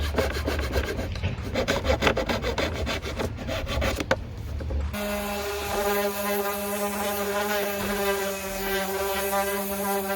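Pieces are sawn off a thrifted wooden frame outdoors, first with rapid rough back-and-forth rasping strokes, then a steady buzzing power-tool tone takes over, close and loud.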